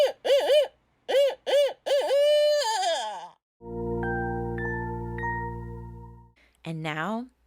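A person imitates a barred owl's hooting call by voice, giving a rhythmic series of hoots, a sliding wail and a long steady tone, close and clear.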